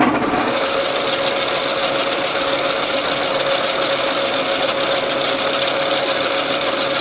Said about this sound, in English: I speeded the lathe up because it cuts a little smoother.